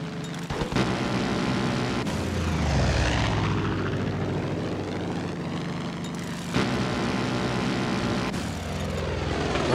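Airplane engine in the video game Far Cry 5, a loud droning propeller roar with pitch swooping as the aircraft banks and dives, punctuated by sharp bursts of gunfire-like impacts, no talk.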